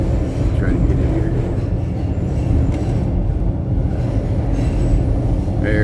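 A Chicago Red Line subway train runs through a dark tunnel, giving a loud, steady rumble with faint squeals heard from inside the car.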